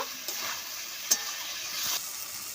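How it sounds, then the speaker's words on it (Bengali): Spice masala is cooked down with fried potatoes in a pan, giving a faint, even frying hiss with a few light utensil taps. "ভেজে রাখা আলুটা দিয়ে দিচ্ছি খুব ভালো করে মশলাটা কষিয়ে নেব"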